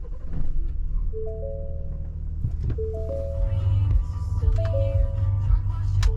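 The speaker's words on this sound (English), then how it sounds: "let's start the engine first" A 2018 Ford F-150 Lariat with a Powerstroke diesel engine starts and settles into a steady low rumbling idle, close and continuous, with a few faint clicks and tones from the cab over the top.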